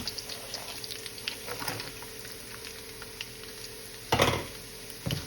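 Sliced ginger frying in hot oil for chicken fried rice, a soft steady sizzle with occasional stirring scrapes and a few louder clatters near the end.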